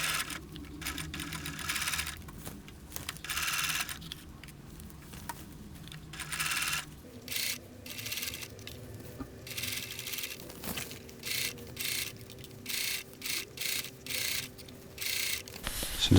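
A sewing machine stitches a guyline reinforcement patch onto a handmade ultralight single-walled duplex tent, running in steady mechanical bursts with short pauses between runs, close and moderately loud with no talk.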